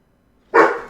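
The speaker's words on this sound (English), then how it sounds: "Barky dogs." Dogs barking in the Kenshi game world: a single loud, close bark bursts out after a half-second of near silence, then tails off.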